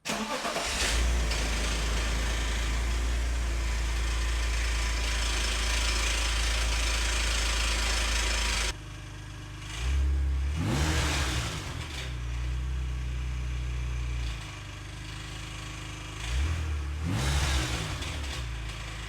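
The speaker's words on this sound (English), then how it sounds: "what you're hearing over there are the catalytic converters rattling internally" A BMW E39 530i with the M54 inline-six runs with its catalytic converters rattling internally. A loud steady engine drone cuts off and gives way to idling with repeated revs and a metallic rattle, and there is no talk.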